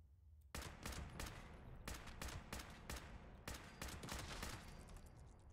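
Rapid bursts of automatic gunfire ring out in the video game Fallout 76, a loud, sustained string of shots in quick rhythmic volleys with no talking over them.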